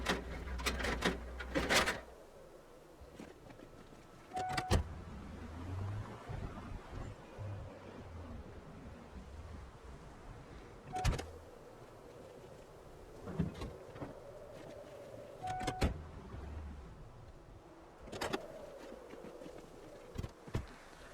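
A car is lowered down in Project Zomboid, with a faint mechanical whir rising and falling, broken up by several sharp clunks spread out at irregular intervals.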